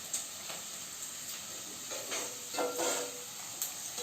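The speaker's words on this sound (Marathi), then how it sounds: "कांदा बघा इथे मस्त फ्राय झालाय." Onions frying in a pan for egg biryani, a soft steady sizzle with a few brief stirring scrapes and hissy bursts, fairly quiet and alone.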